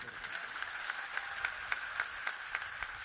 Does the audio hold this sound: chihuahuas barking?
no